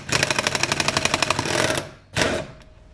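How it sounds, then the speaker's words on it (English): Pneumatic impact wrench tightens a stud into a Suzuki LT250R flywheel on a 1985-86 quad engine, sounding as a loud, rapid hammering rattle for nearly two seconds, then a short second burst after a brief pause. "So we have our impact here. We're going to tighten it."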